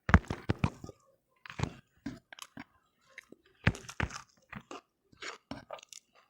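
Close-up chewing of chicken biryani with salad, crunchy bites and wet mastication coming in irregular bursts separated by short pauses.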